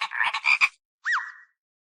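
A burst of rapid chattering calls, then a single clear frog-like croaking note with a rising-falling pitch from an animal-sound-imitating toy gun, loud and close, followed by silence.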